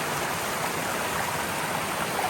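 Water cascading down rocks in a small mountain waterfall on Mt. Moosilauke, a steady close rushing wash that fills the whole stretch without a break.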